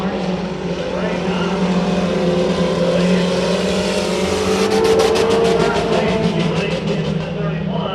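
Race cars roaring through a heat race at Bakersfield Speedway, engines droning loud and steady with a pitch that climbs as one car runs out of gear down the straightaway, the pack passing close by.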